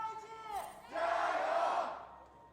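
An esports arena crowd at a League of Legends match in the LPL roars into a sustained chant and cheer, swelling loudly for about a second before fading, heard from a distance through the broadcast.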